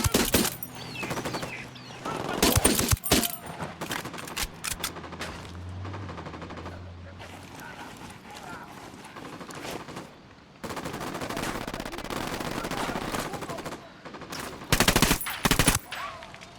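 Gunfire in the Ghost Recon Wildlands video game: loud bursts of automatic rifle fire and single shots crack out in clusters, with quieter gaps of ambient game sound between volleys.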